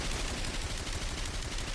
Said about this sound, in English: I can hit L1, and I can fire this beam cannon that I earned